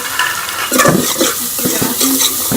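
Chana dal with spices is stirred and fried in a pan: close, loud scraping strokes of a spoon over a continuous sizzle, with several distinct stirs in quick succession.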